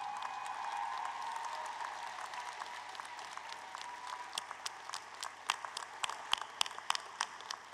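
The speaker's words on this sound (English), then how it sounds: "Students, please stand and give a round of applause to your parents, siblings, friends, relatives, who all make this moment possible" Applause from a large audience at a university arts and sciences commencement, a soft, distant, even roar of many hands that grows denser toward the end as sharper claps come closer, with no voices on top.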